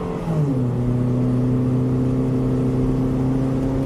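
A Chevy Captiva engine at full throttle climbing a hill, with a steady, loud, labored drone and a pitch that dips briefly early on and then holds constant, heard from inside the vehicle with no talking.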